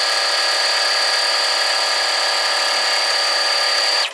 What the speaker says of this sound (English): lift your presser foot up, turn, presser foot down, and stitch back to our other end